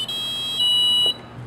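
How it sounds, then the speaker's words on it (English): Quadcopter motors powered from a benchtop DC power supply give a sustained high electronic calibration beep that steps louder partway through, then cuts off, leaving a low background hum. "Listen for the beep."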